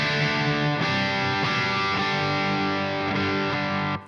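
Electric guitar through a Red Seven Leviathan preamp on a Line 6 Helix, a cleanish gentle crunch tone with reverb, sustained chords restruck about every half second, loud and alone.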